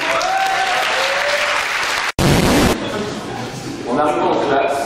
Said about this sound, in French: mais je vous demande quand même de les applaudir.